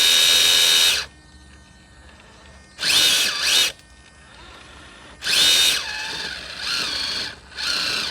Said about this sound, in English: that servo is really loud and annoying